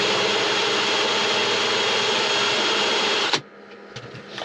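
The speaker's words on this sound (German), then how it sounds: "Und jetzt bohre ich dann mal ein paar Löcher in den Schrank" A drill bores holes into a wooden cabinet with a loud, steady whirring roar lasting a few seconds, then abruptly stops, leaving faint knocks and handling noises.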